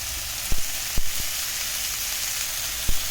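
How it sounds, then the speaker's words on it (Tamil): Tomato and curry leaves sauté in a pan for pepper chicken roast, a steady loud sizzle with a few sharp taps and scrapes of a spatula scattered through it. "தக்காளி போட்டு வதக்கி விட்டுக்கோங்க இப்போ கருவேப்பிலை போட்டுக்கலாம்"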